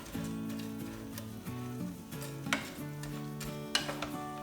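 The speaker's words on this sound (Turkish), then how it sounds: "Güzelce kavuralım." Walnut noodle pilaf roasts in a pan with a soft sizzle while a utensil stirs and scrapes, with a few clinks against the pan, close but fairly quiet.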